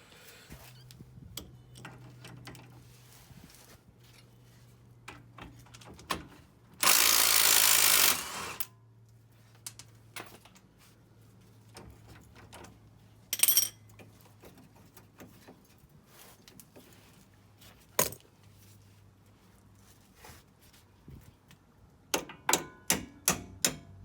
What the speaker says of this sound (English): we'll use a 15mm socket to remove this bolt